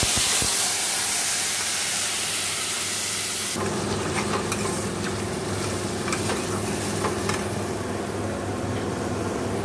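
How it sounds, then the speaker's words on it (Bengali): Whole garam masala and dried chillies fry in hot oil in a wok, a loud close sizzle that shifts partway into crackling spatter with scattered pops and stirring scrapes. "দেখো কড়াইতে তেল দিয়ে গোটা গরম মশলা, শুকনো লঙ্কা ফোড়ন দিয়ে দিয়েছি"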